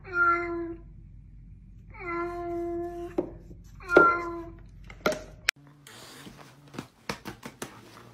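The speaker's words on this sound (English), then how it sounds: "what sound does a cat make?" A cat meows three times in short, drawn-out cries, followed by rustling and handling noises up close.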